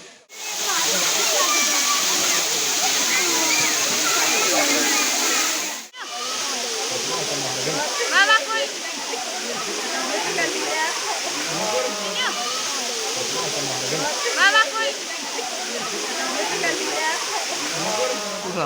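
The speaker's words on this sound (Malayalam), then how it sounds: "നല്ലൊരു വ്യത്യസ്തമായ അനുഭവം തന്നെയാണ് പാലൂർ കോട്ട വെള്ളച്ചാട്ടം" The Paloor Kotta waterfall pours with a loud, constant roar of rushing water. The roar briefly drops out and then resumes, while voices talk over it throughout.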